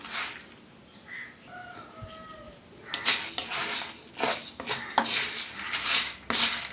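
Whole spices for garam masala dry-roasting in a pan, first a quiet hiss, then a busy run of clinks, scrapes and rattles as a utensil stirs them, fairly close and with no talking.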